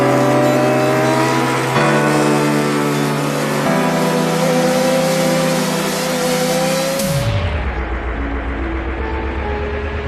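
Superbike motorcycle on the Navarra race circuit, engine screaming loud and close through high revs with gear changes, then dropping sharply as the rider backs off near the end.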